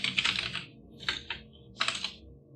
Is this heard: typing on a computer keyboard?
yes